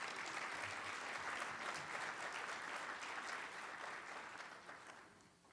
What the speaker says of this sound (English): let's give John a round of applause as our first keynote.